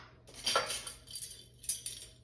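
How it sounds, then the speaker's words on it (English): A utensil clinks and scrapes against a bowl while an egg is stirred and beaten into lasagna filling seasoned with dried basil, salt and pepper, in a few soft close strokes with no talking. "get that stirred up and get that egg beaten in there"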